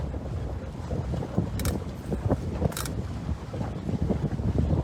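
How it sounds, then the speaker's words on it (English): Wind buffets the microphone aboard a sailboat heading back into a cove, a continuous low rumbling gust with water rushing along the hull and a couple of brief bright splashes. "So I'm just going to have to sail her back into the cove is what I'm going to do."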